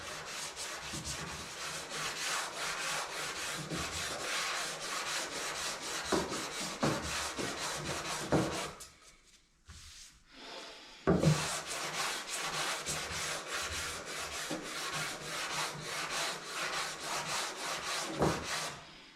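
Primer on a 1967 Chevelle wagon body being sanded by hand with a PVC block, rhythmic back-and-forth rasping strokes close up, pausing briefly midway before resuming at the same brisk pace.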